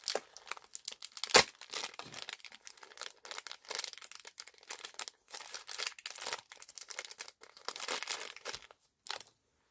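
Plastic packaging of a bead jewelry kit for bracelets and earrings being torn and crinkled open by hand: irregular bursts of sharp crackling and ripping with brief pauses, close and moderately loud, one crisp snap standing out early.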